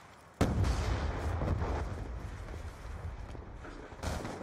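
Gunfire in Call of Duty Black Ops 2 on PS3: a sudden loud blast cracks out, then a rumbling echo and battle noise roll on, and a second shot follows near the end.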